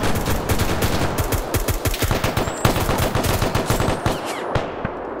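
Rapid automatic gunfire rattles through a firefight in the video game Operation Red Wings. Dense, loud bursts repeat with barely a pause, and a few heavier single shots stand out in the barrage.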